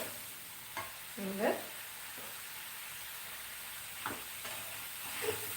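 Cauliflower curry with masala sizzles steadily in a pan for chapati-side gobi curry, a soft continuous frying hiss broken by a few brief stirring scrapes, close and moderately quiet with no talk.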